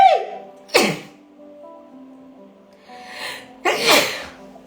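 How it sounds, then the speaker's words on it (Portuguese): Two sharp, loud human sneezes close to the mic, each with a breathy intake before the burst, separated by a few seconds of quiet. "Eita, que espirro brabo."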